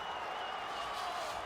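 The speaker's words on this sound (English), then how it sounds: "the crowd is absolutely eating it up" Crowd cheering and applause from the arena audience of EA Sports UFC 5 during a women's bout, a steady, dense roar of many voices that holds at an even level throughout.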